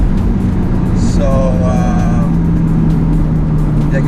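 Turbocharged engine of an Alfa Romeo 4C on a test drive, a steady low drone with constant road and wind roar inside the cabin, a brief higher whine and a faint tonal note drifting over it.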